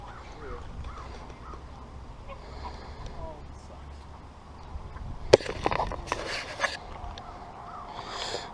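A goose found injured by a river in central Pennsylvania gives a few sharp, harsh honks, loud and sudden after a stretch of quiet outdoor background with faint voices.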